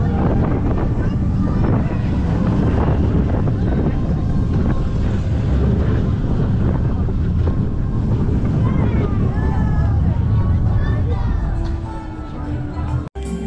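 Constant loud wind roar buffeting the microphone aboard the Farmyard Flyer family roller coaster at Paultons Park, rushing steadily throughout and easing off near the end, with a voice heard briefly under the noise.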